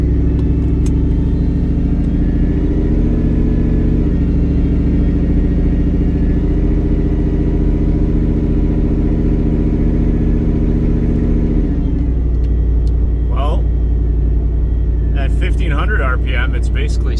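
A warmed-up Ford SVT Lightning pickup with a custom exhaust rumbles loudly and steadily close by, its lumpy idle shifting in pitch before easing off, with a voice briefly heard over the engine near the end.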